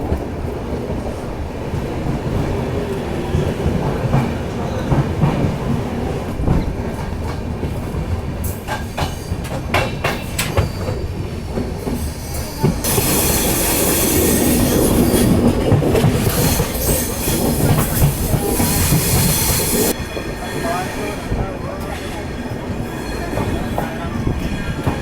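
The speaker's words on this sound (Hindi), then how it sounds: "हमारी ट्रेन का यहाँ पर सिर्फ 2 मिनट का हॉल्ट होने वाला है।" The Yoga Express passenger train runs along the rails in sleeper class, wheels clattering rhythmically with sharp squeals and a louder rushing stretch midway, a continuous near rumble throughout.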